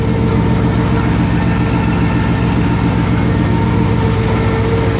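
A 1999 Chevrolet Camaro SS with an LS1 V8 idles steadily with its header cutout open, a loud, deep, even rumble held close and constant throughout.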